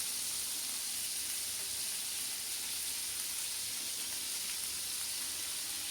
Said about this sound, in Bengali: তো আমি হালকা করে পনিরটাকে এপিট ওপিট করে ভেজে নিব।